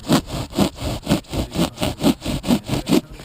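Rhythmic back-and-forth sawing through styrofoam roof insulation board for a trailer roof, about eight even strokes close by with a scratchy, hollow rasp and no talking.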